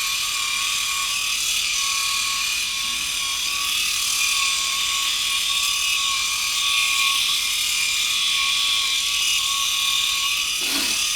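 Philips i9000 Ultra electric shaver cutting facial stubble, a continuous close, loud motor buzz with a steady high whine and rasping texture, running alone without pauses.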